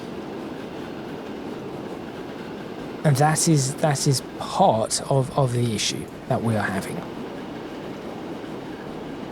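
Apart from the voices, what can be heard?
trains running in the video game Transport Fever 2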